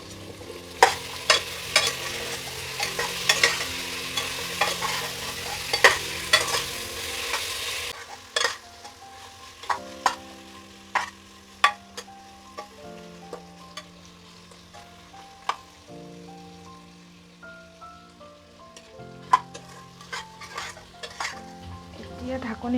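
Mutton curry being stirred and fried in a pan, with a loud, dense sizzle for the first several seconds that then drops to a quieter simmer, broken by repeated sharp scrapes and clinks of a spoon against the metal.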